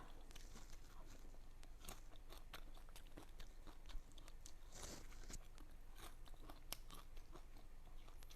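Crisp, crackly crunching of deep-fried grasshoppers seasoned with salt and MSG, being chewed up close in a rural home, with a steady run of brittle bites and chews and no talking.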